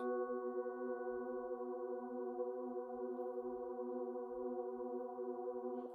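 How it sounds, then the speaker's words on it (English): A sustained bell-like synth pad chord built from a root, a fifth and the root again, as in an Afro house track, holds steady and alone for the whole stretch, moderately loud with no talk. "It's called introspective bell pad."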